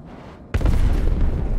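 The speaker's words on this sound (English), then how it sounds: "sometimes you just have to use your last torpedo" A size 5 torpedo detonates in Star Citizen, a sudden loud boom after a quieter hum, followed by a heavy rumbling roar that continues to the end.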